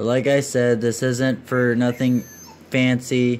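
A pet dog named Skipper whimpers and yips in high, short cries close by, mixed in with someone talking in a room full of aquariums.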